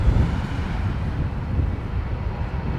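An Airbus A321 airliner pushing back at London Heathrow Airport gives off a steady, low engine rumble with airy wind-like noise, continuous and fairly loud throughout.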